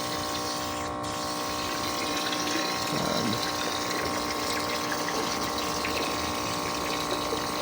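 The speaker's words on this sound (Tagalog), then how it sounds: "Kaya ayan, mag-water change tayo." Steady drone of a pump moving water during a home aquarium water change, continuous and fairly loud, with faint indistinct voices now and then.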